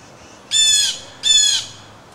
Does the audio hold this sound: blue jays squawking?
yes